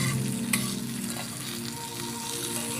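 Chopped onion frying in a pan and being stirred, a close, steady sizzle with occasional spatula scrapes and a light tap, no voices.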